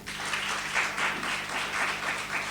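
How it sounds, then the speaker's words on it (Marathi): A Sunday service congregation at Christi Mandali Church in Pune claps for Reverend Doctor Ashish. The dense applause holds steady and fairly loud, swelling in gentle waves through the short stretch. "यावेळेस सन्माननीय रेव्हरंड डॉक्टर आशिष यांच्यासाठी आपण जोरदार टाळ्या वाजूया"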